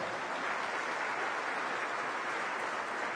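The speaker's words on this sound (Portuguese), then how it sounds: "Vamos aplaudir Jesus?" A church congregation applauds in a continuous, even wash of clapping that holds steady from start to finish at moderate loudness, with no voices standing out.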